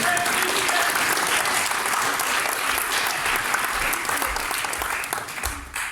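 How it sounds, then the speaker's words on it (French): Sustained, dense applause from an audience at a local radio station's inauguration, steady and fairly loud throughout before tapering at the end. "On applaudit encore Mireille."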